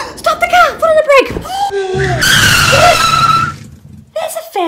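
A child's imaginative pretend car braking, voiced as a skidding screech by a person, with a loud sustained hissy squeal after earlier chatter; a voice imitates the sound, and talk is heard before and after.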